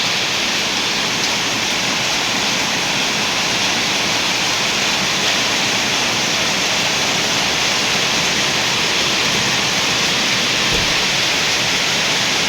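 Heavy rain pours down steadily, a loud dense hiss that fills the whole stretch without pause or voices.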